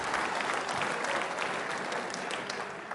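Loud, dense applause from an audience at a quiz show for trainee state service officers fills the whole stretch steadily, with no voices on top.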